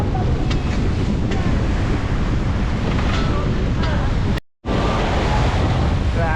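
Strong wind roars across the microphone beside a rough sea, steady loud buffeting mixed with the wash of breaking waves, broken by a brief dropout near the end.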